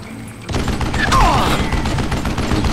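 Dense, continuous gunfire crackles in Call of Juarez Gunslinger, a Wild West shootout with overlapping shots and booms under a busy game soundscape.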